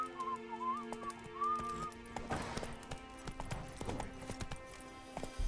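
Horse trotting in The Witcher 3 video game, its hooves beating out a rhythmic clip-clop at close range, joined by a short whistle-like tone early on.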